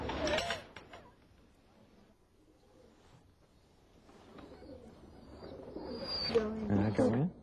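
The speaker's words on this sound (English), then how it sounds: "Those are ice pigeons." Pale ice pigeons cooing nearby, soft low coos rising toward the end after a quieter stretch, with a person talking over the start.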